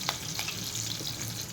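Mixed tempering spices crackle and sizzle in hot oil, a continuous close frying hiss with a few sharp pops near the start, heard without talk.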